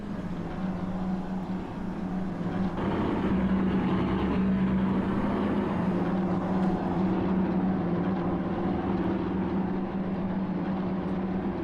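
P-47D Razorback warbird engine in a flight simulator, an Aeroplane Heaven model for Orbx: a loud, steady propeller-engine drone with a deep, even hum that holds for the whole stretch.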